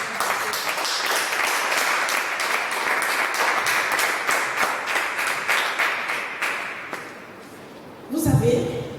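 A church congregation claps in a steady rhythm, the beats close and lively, with voices mixed in, before the clapping breaks off near the end.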